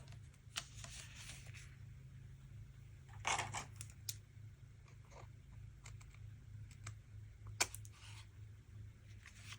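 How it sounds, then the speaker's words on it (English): Scissors or a trimmer cut the edge off a vellum memory page in a quiet room, giving soft, scattered snips and papery rustles with a louder crisp cut near the middle and another near the end. "And then I will cut the edge off."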